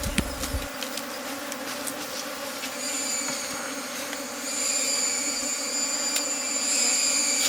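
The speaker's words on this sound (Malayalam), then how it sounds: "ഈച്ച എല്ലാം കൂടെ ഇളയിട്ടുണ്ട്." A swarm of wild honey bees buzzes steadily around a forest hive, a dense continuous hum that grows slightly fuller midway, with no voices.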